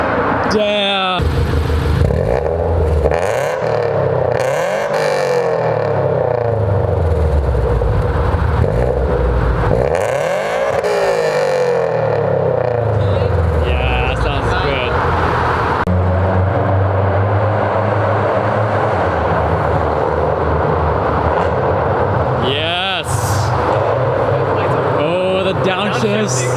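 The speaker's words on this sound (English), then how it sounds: "Downshifts." A car with newly installed headers downshifts repeatedly, engine revs sweeping up and down loudly and close by, with people talking over the engine noise.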